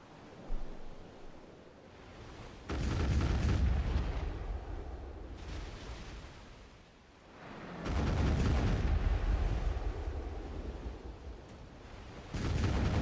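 Ship cannons firing in an online naval video game, heavy booming volleys arriving in two long rolling bursts with a wash of sea and wind between them, loud and close, no talk.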